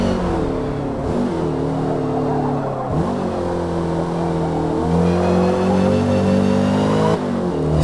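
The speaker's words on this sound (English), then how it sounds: "The car's whistling a little bit more now." A race car engine in Forza Motorsport, a Classic Sport Series car, drones at high revs with a thin mechanical whistle riding on top, pitch sliding up and down through gear changes, loud and continuous with no talk.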